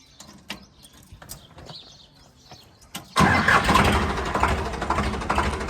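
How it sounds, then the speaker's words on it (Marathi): A tractor engine cranks and fires up on a farm, quiet clicks and birdsong giving way to a sudden loud, rough diesel roar that holds steady close by. "तर करतो आता ट्रॅक्टर चालू"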